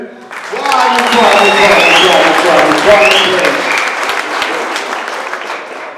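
Crowd at a Patriotic Alliance regional leadership launch in the Vaal applauds the Tshwane branch, loud sustained clapping mixed with cheering, ululating voices and shouts that swell then ease off slightly.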